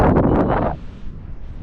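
Gusty wind buffets the microphone aboard a boat, loud and rough at first, then settling into a softer steady rush.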